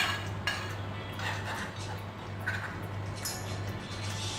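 Onion and yogurt mixture is stirred into masala in a pan, with soft clinks and scrapes of a spoon against metal repeating over a low steady hum, no voices.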